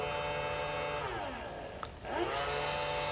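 A makeup brush cleaner and dryer machine runs loudly with a steady motor whine that dips briefly, then swells back with a harsher, hissing airflow.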